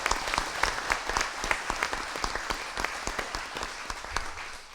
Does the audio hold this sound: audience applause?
yes